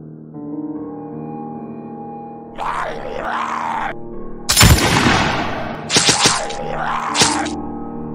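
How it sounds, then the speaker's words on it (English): Rifle gunfire in a zombie video game: a loud crack followed by a short burst of rapid shots and a couple more sharp bangs, set against a low droning hum and groaning sounds. "Wait, let me get my rifle."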